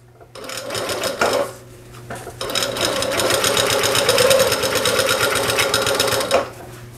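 A sewing machine stitches a faux leather wallet in a fast, steady mechanical chatter, loud and close, pausing briefly twice before a long continuous run and then stopping.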